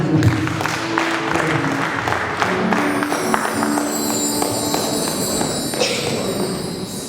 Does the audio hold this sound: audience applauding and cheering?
yes